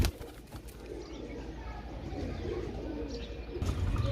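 Pigeons coo in low, soft murmurs, with a burst of wing flapping at the start and again near the end, close by and fairly quiet.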